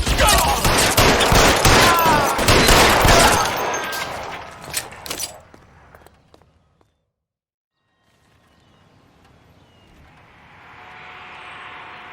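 A gunfight in the video game L.A. Noire, with dense, loud overlapping gunshots and rapid bursts for several seconds that fade to near silence before a soft rushing ambience rises.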